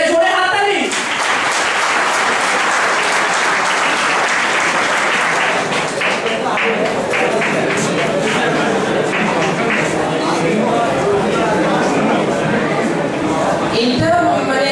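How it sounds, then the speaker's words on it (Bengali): Loud, sustained applause from an audience at a stage program honoring a retiring teacher, dense clapping filling the whole stretch with some crowd voices mixed in. "একটা জোরে হাততালি।"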